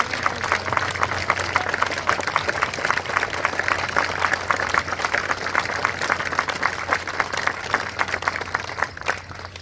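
A crowd applauds the sculptor of the Idaho Women Veterans Memorial at its outdoor dedication ceremony, a dense, even wash of clapping that continues steadily throughout without a voice over it.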